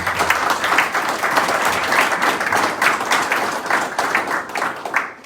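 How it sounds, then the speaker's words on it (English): Audience applause at a provincial funding announcement in Beinn Mhàbu: a full, steady round of clapping from a crowd, sustained and close for about five seconds before tapering off. "Another round of applause."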